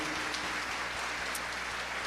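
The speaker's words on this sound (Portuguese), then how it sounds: "Quantos podem dar um aplauso ao Senhor nessa manhã?" A church congregation claps for the Lord during a morning service, soft and distant steady applause with a low hum beneath it.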